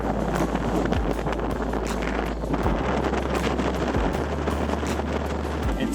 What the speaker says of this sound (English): It's blowing 30 knots out here right now